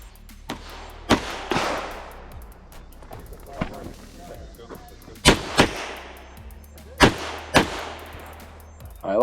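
Pistol shots fired on a stage of an IDPA shooting match, loud sharp cracks in uneven groups of two and three, each ringing out with echo, mixed with outdoor background noise.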